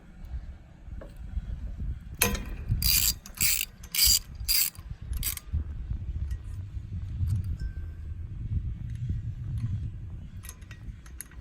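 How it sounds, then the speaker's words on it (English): A spark plug wrench ratchets on a BlackHawk TITAN 210 paramotor engine: a quick series of loud, close clicking bursts, then quieter mechanical handling over a low background hum. "Hold the spark plug wrench tight to here."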